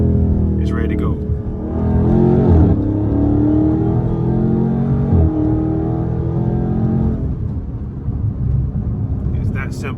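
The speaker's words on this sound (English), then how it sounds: "Drop this thing down to the lowest gear. Just listen to the car." Dodge Charger engine held in low gear by paddle shifters at speed, a loud, close drone whose pitch rises and falls as gears drop, with road roar underneath and someone talking over it.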